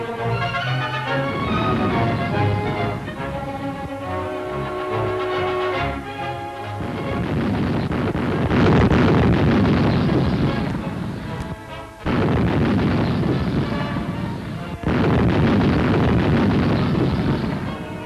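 A World War II-era ANZAC artillery barrage in Syria, loud, dense rolling booms and crashes of guns firing hot and fast, layered over a musical passage early on and continuing as a sustained thunderous roar with brief gaps.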